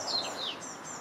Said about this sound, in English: You can hear the birds singing now for spring.